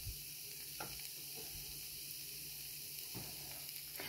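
Chicken, broccoli and pasta in sauce sizzle gently in a pan on low heat, a steady soft frying hiss with faint stirring clicks and no talking.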